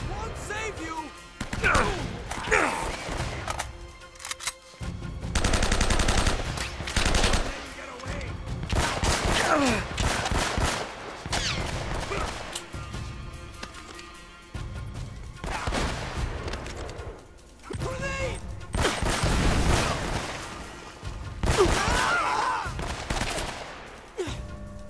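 Rapid gunfire from the Uncharted: Drake's Fortune video game, with repeated bursts and volleys of shots, loud and dense across the scene, mixed with impacts and occasional game voices.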